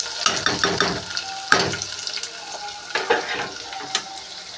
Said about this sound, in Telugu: ఇప్పుడు అయితే ఆనియన్స్ అయితే వేసేస్తున్నాను